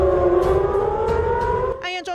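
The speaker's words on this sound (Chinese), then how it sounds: "暗夜中刺耳的警报声响起" An air-raid warning siren wails at a peacekeeping camp in Lebanon at night, holding a steady, loud rising tone for most of the stretch before breaking off into a brief, rougher burst.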